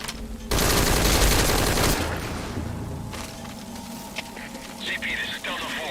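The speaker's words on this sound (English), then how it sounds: "Identify gunfire." Gunfire in the video game Metal Gear Solid V: a dense, loud burst of rapid automatic shots for about a second and a half, then lingering rumble and scattered game sounds with radio-style voices talking.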